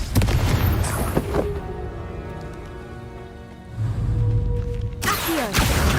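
Confringo blasting curse from Hogwarts Legacy erupting in a loud, booming explosion, followed by a crackling, rain-like rumble of debris that fades before another burst of noise.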